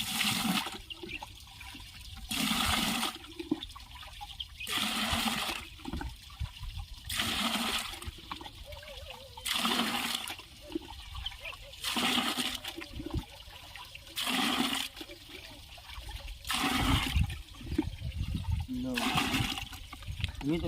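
Water is poured in repeated gushing bursts from containers into a pesticide sprayer tank for a groundnut field, each splashing pour separated by short pauses, with someone talking over it.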